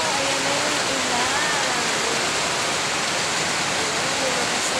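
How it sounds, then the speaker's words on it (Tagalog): Heavy rain pours steadily onto garden plants and tomato plants in Cavite, a dense, constant hiss with no pauses, close and loud throughout. "Oh, ayan na yung ulan."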